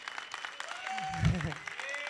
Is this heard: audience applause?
yes